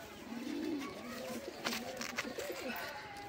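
Pigeons coo softly in low, rolling murmurs at a modest distance, with a faint background hum and no speech.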